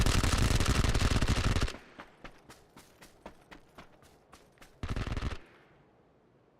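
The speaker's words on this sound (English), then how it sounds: "They feel the need to unload their entire 250 rounds of ammo" Automatic gunfire in the video game PUBG: a sustained, loud burst of rapid shots, then a series of separate single shots, then a second dense burst, with no talking.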